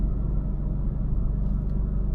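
A Toyota GR86/Subaru BRZ with an AWE Touring exhaust idles steadily, heard from inside the cabin as a low, even rumble with no talking.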